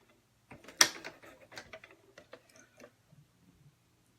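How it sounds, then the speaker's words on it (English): Sewing machine mechanism clicking while the machine is rethreaded, a scattered series of small clicks and ticks, one sharper snap near the start, then fading to a few soft taps, close and quiet. "Let's rethread the machine since it got a little wonky."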